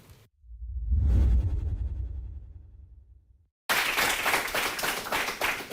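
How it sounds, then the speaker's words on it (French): Studio audience applause on a French TV quiz show, heard in two bursts: a short patch at the start, then a swooshing low rumble of a transition sting and a sudden loud wave of clapping in the final two seconds. "Mesdames et messieurs, on va l'applaudir encore."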